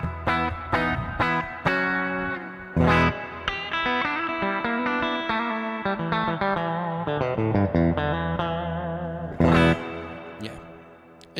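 Fender Stratocaster electric guitar on the neck pickup, played with effects and light distortion: a loud, continuous run of strummed chords and picked notes with sharp attacks, sustained ringing tones and some reverb, no talking.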